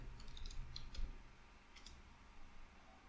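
Keys tapped on a computer keyboard while a web address is entered in a browser, quiet scattered clicks in short bursts over faint room hum, no voice.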